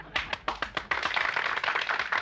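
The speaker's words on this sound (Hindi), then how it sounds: "तालियां।" Audience at a ceremony honoring a famous writer breaks into applause, starting with a few sharp separate claps that quickly swell into a continuous round of clapping from a small crowd.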